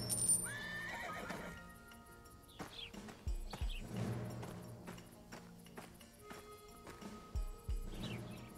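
Horses whinny and snort amid game-like ambience in the video game Desperados III, with hoof thuds and clip-clops scattered through; a couple of distinct neighs stand out.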